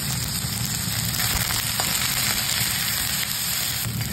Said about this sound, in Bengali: কুদ্রিগুলো ভাজা হয়ে গেছে, আমি তুলে নেব।